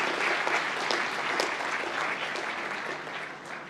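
An audience applauds graduates at a University of London presentation ceremony, a steady wash of many hands clapping in a large hall that fades slightly toward the end.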